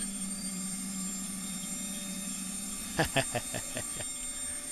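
Boeing 737-300 Classic jet airliner in the X-Plane 11 flight simulator, with a steady cabin engine hum and hiss and a short run of sharp mechanical clicks and thumps near the end.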